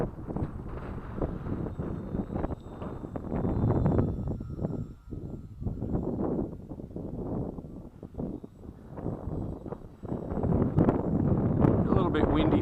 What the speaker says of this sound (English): It's really struggling with the wind.